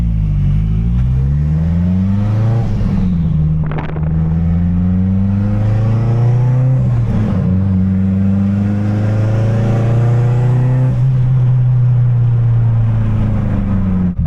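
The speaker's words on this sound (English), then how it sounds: "The car's running nicely after the new spark plugs." A Mitsubishi Evo 8 engine runs after fresh spark plugs and a lean-condition fix, close and loud, with a steady idle broken by a few brief revs that rise and settle back down.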